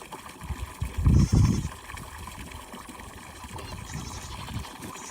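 Goats bleat in a played goat film, a loud cluster of bleats early on, then quieter bleating later over a steady background hiss.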